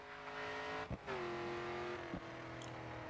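Rear-wheel drive race car engine in the video game Grid 2, held at full throttle on the final straight, a loud steady high-revving drone with two brief dips where the pitch shifts between gears.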